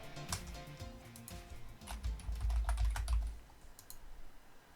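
Typing on a computer keyboard, a close run of quick, irregular key clicks with brief pauses and a low hum underneath, no talking.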